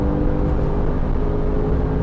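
Porsche 911 Carrera GTS (991.2) with a 450 hp engine and seven-speed manual, revving hard under load while driving, a dense continuous roar and whir heard close up from inside.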